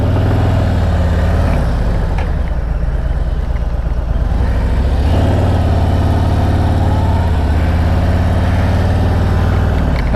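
Harley-Davidson Road Glide Limited motorcycle cruising down an interstate, a steady low engine drone and road rumble throughout, close and continuous with no talk.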